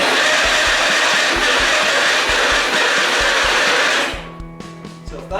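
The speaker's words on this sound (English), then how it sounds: "you probably have a Gator and it's making a horrendous squealing sound like this" A Peg Perego Gator ride-on toy's faulty gearbox gives off a loud, harsh, continuous whining squeal with a rough mechanical rattle. It cuts out near the end, leaving fainter clatter.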